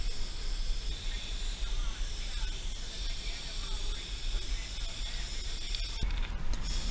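A steady, close hiss of a Krylon spray paint can with a fat cap, spraying graffiti, runs continuously, with faint clicks and rattles under it.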